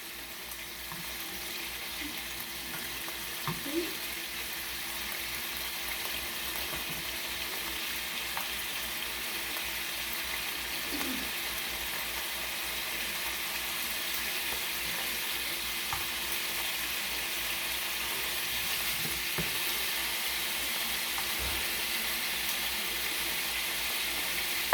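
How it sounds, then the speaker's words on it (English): Scallops sear in a pan over high heat, a steady, even sizzle that runs unbroken throughout with a few faint clicks and shifts of the pan, and no one talking. "All right, I'm going to turn my scallops. Get this up nice and high. I want to get a nice little sear on them."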